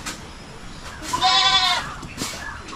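Goats on a farm bleating, one clear, loud, wavering bleat close by in the middle, with fainter animal sounds around it and no talking.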